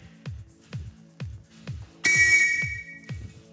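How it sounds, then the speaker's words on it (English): A handheld whistle blown once, a sharp shrill blast of about half a second that rises clearly over a faint background of repeated soft bouncing thuds. "Point at it and blow your whistle whenever you're ready."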